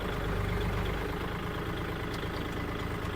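A used L3218 tractor engine idles without pause, a low, even rumble holding constant throughout with no revving, gear whine or other sounds.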